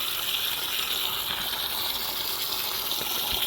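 Water gushing and splashing steadily and loudly throughout while a dog is bathed, a broad continuous wash of spray with small clinks, close by and with no talking.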